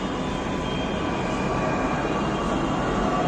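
Jaipur Metro train running, a small four-coach metro, giving a steady broadband rumble and hiss that holds at an even level throughout, with no voices.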